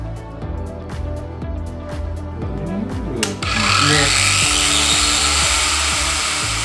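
A Parkside 20V cordless angle grinder with a 125mm disc: repeated short motor bursts at first, then a shrill, sustained whine as it spins up and runs steadily, loud and close.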